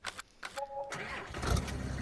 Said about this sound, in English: Just manually starting your truck.